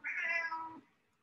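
A single cat gives one clear, close meow lasting under a second, rising and then fading out in an otherwise quiet room.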